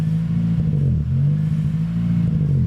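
A supercharged Toyota Celica engine idles roughly and unevenly, a steady close low rumble with a wavering, hunting pitch throughout.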